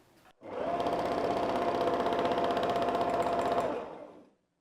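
A sewing machine free-motion quilting a wave pattern runs in one continuous burst of rapid, even needle stitching for about three and a half seconds, close and loud, then stops.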